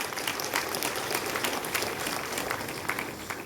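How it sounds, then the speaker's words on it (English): Convocation audience in a large hall applauds steadily for women engineers, a dense, continuous wash of many hands clapping at moderate distance without talk. "let's give a big applause to the women engineers of India"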